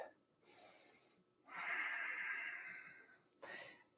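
Deep breathing in a yoga goddess pose: a long, slow inhale-exhale rush of air, close and soft, with a short sharp breath at the end and no speech.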